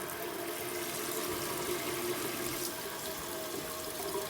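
Tap water runs steadily into a kitchen sink basin as it fills for washing dishes, a continuous even rushing and splashing that stays at one level throughout, close by and moderately quiet.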